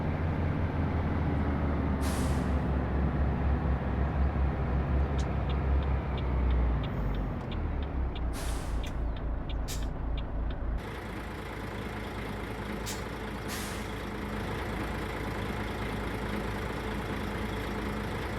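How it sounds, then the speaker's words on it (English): A truck engine idles in a trucking simulation game, a steady low rumble that holds throughout, with short hissing bursts like air brakes and a drop in level partway through. "Actually sounds like a real engine,"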